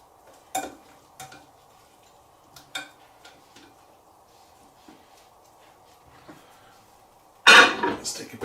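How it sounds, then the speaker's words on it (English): Spoon clinking against a dish while a meatloaf taken out of the microwave is stirred: a few sharp scattered clinks over a steady low hum, then a louder clattering burst at the end. "Just give it a little stir."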